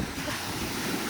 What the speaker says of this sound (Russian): Так, волна. Блин, эти волны.